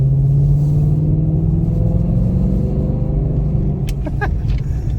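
A Ford Mustang GT S650 fitted with Kooks headers, its exhaust set to quiet mode, gives a low, steady engine rumble that stays subdued, with a few brief sharp noises near the end.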